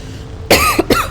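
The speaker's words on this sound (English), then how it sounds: "I had to pause there to cough as well" A person coughs close to the microphone, two sharp harsh bursts in quick succession against a quiet background.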